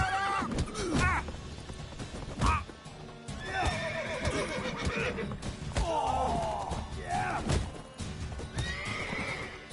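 A horse in The Witcher video game neighs and whinnies several times amid hoof clip-clops and thumps, loud and close, with a voice speaking in between.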